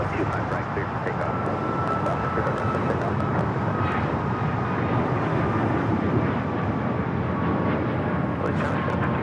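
An Alaska Airlines Boeing 737 MAX 8 in the Honoring Those Who Serve livery takes off at LAX, a sustained broad jet roar holding steady and loud throughout, with wind rumble.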